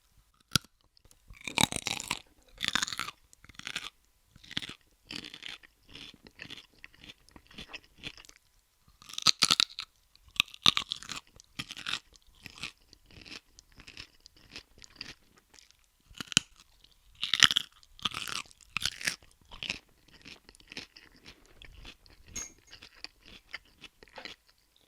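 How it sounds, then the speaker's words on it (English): A raw carrot is bitten and chewed up close: loud, crisp crunches come in irregular bursts, followed by softer repeated chewing with brief quiet gaps. "Well, certainly has a crunch to it."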